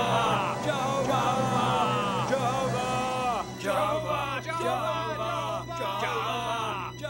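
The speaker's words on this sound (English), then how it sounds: "Now we launch the war cry" A crowd bellowing a war cry, several loud, drawn-out shouted calls in a row, rising and breaking off, with a steady low drone underneath.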